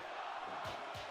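A wrestling match crowd cheers and chants in a dense, steady roar, with two short rhythmic thumps standing out toward the end.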